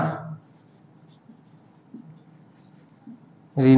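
Accounts being written by hand with a pen: a soft, continuous scratching on paper, faint and close, between bursts of speech at the start and end.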